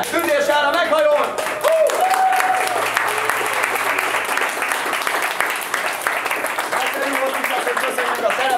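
An audience at an outdoor market performance breaks into loud, sustained applause with whoops and cheers, a voice shouting over the clapping early on.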